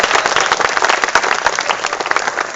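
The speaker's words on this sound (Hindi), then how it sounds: "श्रोताओं की ताली।" An audience applauds a poet at a poetry gathering, a dense burst of many hands clapping at close range, lasting a couple of seconds with no talk.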